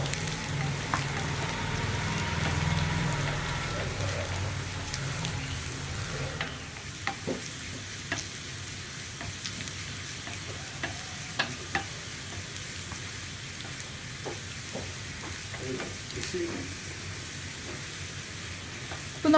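Sliced onions fry and sizzle steadily in a pan for a green gram coconut milk curry, with a constant hiss broken by occasional clicks and scrapes of stirring, heard alone without talk.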